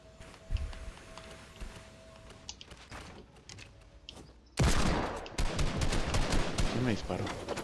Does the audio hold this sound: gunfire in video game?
yes